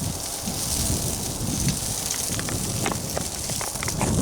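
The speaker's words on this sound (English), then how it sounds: "It is raining." Steady rain falls outdoors around a smoker cooking beef short ribs, a continuous hiss of drops pattering on surfaces with scattered sharper ticks, fairly close and without talk.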